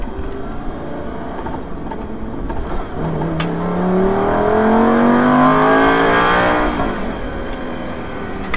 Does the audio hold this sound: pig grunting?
no